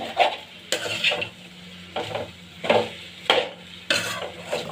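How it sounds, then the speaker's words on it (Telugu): Flat beans and potato curry stirred in a pan, a spoon scraping through the vegetables in regular sweeps about every second over a soft sizzle, with light clinks against the pan. "చిక్కుడుకాయ వేసుకొని ఇలా కలిపేసుకుంటున్నాను. ఇలా బాగా కలిపేసుకోవాలి."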